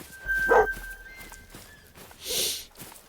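A pointer hunting dog gives a single sharp bark near the half-second mark in theHunter: Call of the Wild while hunting in Sundarpatan. A steady in-game tone and soft footsteps continue behind it, and a brief rush of wind-like noise follows later.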